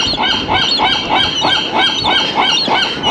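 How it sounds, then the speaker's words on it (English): Seagulls call loudly and close on Alcatraz Island, a rhythmic run of harsh honking cries repeating about every third of a second, with no talk over them. "These seagulls really are not afraid of anybody."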